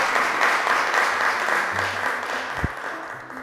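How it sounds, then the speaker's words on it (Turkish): A studio audience at a children's religious quiz show claps for the yellow table: a steady wash of many hands, fairly loud and unbroken, with a single low thump near the end. "alkışlıyoruz sarı masayı"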